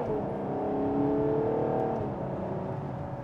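Race car on a track accelerating out of a corner in second gear, heard from onboard as a steady engine whine whose pitch climbs under load, close and continuous.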